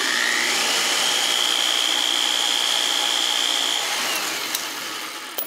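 A power trimmer cuts 5.56/.223 brass cases, a close high whirring whine that holds steady for a few seconds, then winds down with faint clicks as the case bottoms out at length.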